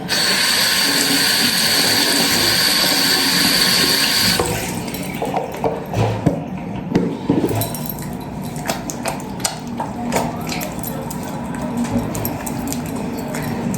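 Washing under a running tap indoors: a strong steady rush of water for about four seconds, then lighter splashing, clinks and handling noises as something is rinsed, close by.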